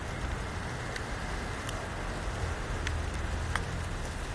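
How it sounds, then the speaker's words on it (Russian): Outdoor rain, a soft, continuous hiss with a few scattered sharper drop ticks, fairly faint and steady with no voices. "Так, дождь крепчает."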